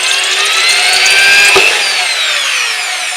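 A power drill with a 5.5 bit bores a hole through a pannier, its loud high whine holding steady and close, with a thump midway and the pitch shifting as the bit cuts through.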